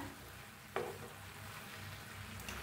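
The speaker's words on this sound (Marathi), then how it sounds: "आता भाजीला मिक्स करूया।" Dill greens (shepu bhaji) are stirred in a frying pan, a faint, soft sizzle with one quick clatter of the spoon against the pan, quiet and without talk.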